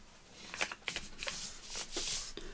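Paper journaling card being folded by hand, soft rustles and crisp creases in a few short bursts, close and quiet, with no talking.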